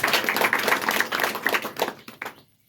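An audience claps together at a Hindi motivational seminar on RCM business success, a dense burst of applause that fades out near the end, with no talk over it.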